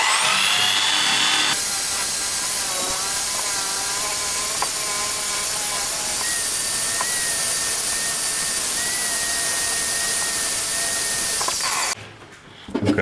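A power drill spins a wire brush against the outside casing of a Honda VTR1000 Firestorm starter motor, giving a loud, steady whirring grind that holds for about twelve seconds before cutting off.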